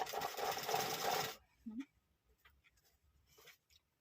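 A sewing machine stitches piping onto a blouse with a close, steady whirring run of about a second and a half, then stops, followed by faint handling noises and a short bit of quiet speech.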